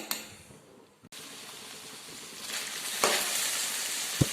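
Ivy gourd (kovakkai) frying in a pan, already half cooked, gives a steady close sizzle that begins abruptly after a brief pause and then keeps up a continuous crackling hiss with a couple of sharper pops near the end.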